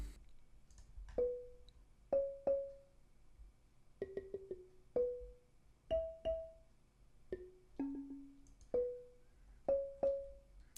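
Soft wooden mallet notes from a software marimba ring out one at a time and in quick pairs, each a short percussive strike with brief decay, quiet and sparse.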